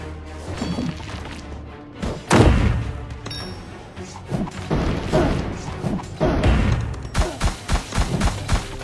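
Rapid booms, crashes and gunfire-like bursts pile up in a dense, chaotic barrage of explosions in the video game Kingdom Rush Vengeance, loud and continuous throughout.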